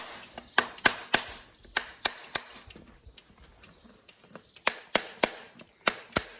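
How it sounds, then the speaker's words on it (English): A farrier's hammer strikes the nail ends protruding from a horse's hoof, sharp ringing metallic blows in quick irregular bursts with short pauses between groups, close and clear. "Once we knock the nail into the hoof capsule, you ring it off"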